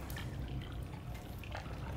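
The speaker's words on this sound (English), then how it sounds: "The water level is rising." Water fills up a space in the video game Black Mesa, a steady rushing, dripping trickle that stays moderately loud and even, with no speech.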